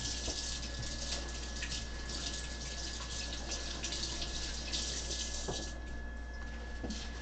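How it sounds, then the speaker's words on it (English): Tap water runs steadily into a sink during hand washing in a kitchen while bacon is being cooked, a continuous close hiss with a few faint knocks and no talking. "Always important to wash your hands, especially when you're handling meat."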